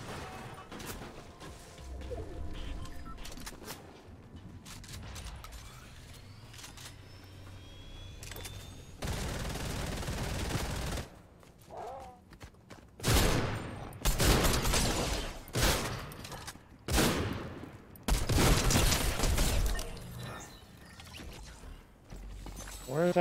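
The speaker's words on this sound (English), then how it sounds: "That guy was shooting at me." Fortnite match with repeated bursts of gunfire, loud clustered volleys and sharp cracks in the second half, over game ambience and movement sounds; a voice speaks briefly.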